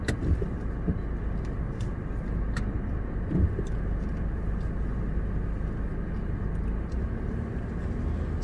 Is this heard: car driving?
yes